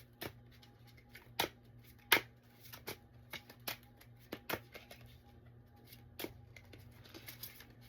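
Cards riffled and snapped in a series of sharp, uneven bursts against a quiet background with a faint steady hum.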